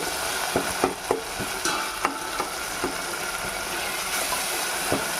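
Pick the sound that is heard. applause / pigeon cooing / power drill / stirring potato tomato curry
stirring potato tomato curry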